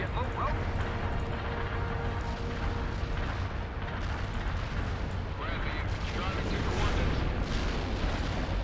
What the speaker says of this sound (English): So we'll just sit here at the edge of the artillery strike and move in as soon as it's done.